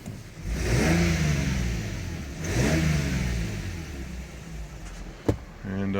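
Cold Lexus SC300 engine revved twice in long sweeping bursts, pitch climbing then falling back to idle, followed by a steady rumble, a sharp click and a short tonal hum near the end.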